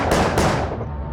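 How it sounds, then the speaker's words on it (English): Two or three sharp gunshot cracks ring out in quick succession, loud and reverberant, with a decaying echo after the last one. "3 gunshots ring out upstairs"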